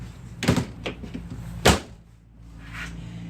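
An RV screen door is unlatched from the hard door, giving a couple of sharp close clicks and clacks with a softer rattle in between, alone in a quiet interior.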